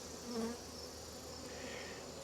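Honey bees buzz faintly but steadily as a hive is opened for inspection, a soft continuous hum with small swells as individual bees fly close.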